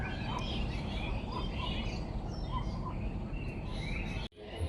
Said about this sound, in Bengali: একটা কোকিল ডাকছে কেমন।